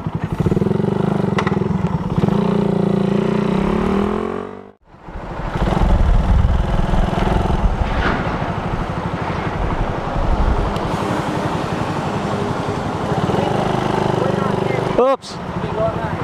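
A motorcycle engine runs loud and close, its rumble steady apart from a brief drop in the middle, with voices now and then.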